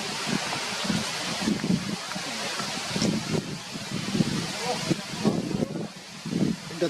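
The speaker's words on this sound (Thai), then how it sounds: "ลมแรง" Strong wind blows outdoors by a forest edge as rain approaches, a continuous rushing roar with gusts and buffeting on the microphone, with voices faintly underneath.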